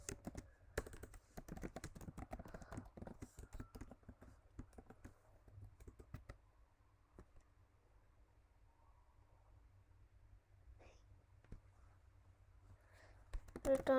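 Someone types on a computer keyboard, producing a quick run of close, crisp key clicks that thins into sparse, quieter taps and then picks up again briefly at the end.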